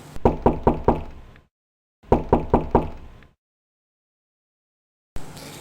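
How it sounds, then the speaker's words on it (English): Knuckles rap on a wooden door at close range, two bursts of five quick, loud, evenly spaced knocks separated by silence, then a short noisy sound at the end. "he heard a knock on his door"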